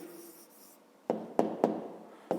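A pen writing an answer by hand on paper for a fifth-grade math exercise: a faint soft scratch followed by four distinct taps and strokes, close and quiet.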